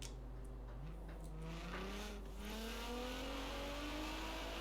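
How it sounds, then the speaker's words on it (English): Nissan Pulsar GTI-R engine in Forza Horizon 4 revs and climbs steadily through the gears, a continuous rising engine whine heard alone and fairly loud. "The GTR engine sounds different."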